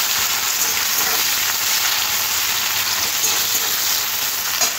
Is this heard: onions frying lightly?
yes